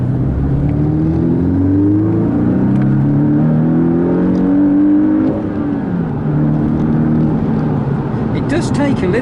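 A Porsche 718 Boxster's engine revs steadily as the car accelerates, its drone climbing and dipping through gear changes, loud and continuous with someone talking over it.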